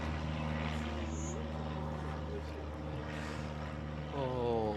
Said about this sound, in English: Oh, gotta love the planes taking off.